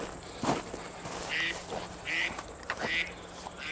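Three short, bright electronic tones from a mobile phone chime at regular intervals over a noisy background during a hunt in the Sudetes, sounding a little like quacking.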